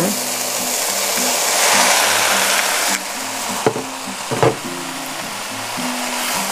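Boiled rice vermicelli stirred into a sizzling filling in a frying pan for sausage risoles, loud continuous frying hiss with scraping spatula strokes and a few knocks against the pan over a low humming tone.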